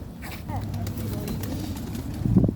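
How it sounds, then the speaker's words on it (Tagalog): Pigeons in the Czech Republic, a few soft low coos close by, heard under light background noise and a brief voice. "Ay, tingnan niyo ang kalapati, ah."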